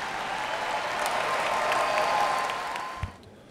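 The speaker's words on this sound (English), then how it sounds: "Please give a round of applause for the 2017 Master of Planning students." Sustained applause from the audience at the 2017 USC Price commencement ceremony, honoring Master of Planning graduates; dense, steady clapping that holds evenly for about three seconds, then quickly fades away.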